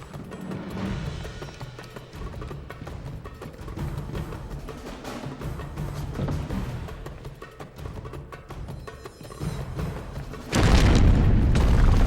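Grenade blast in the video game 007 Blood Stone, a sudden loud booming explosion near the end that follows a stretch of steady game background noise.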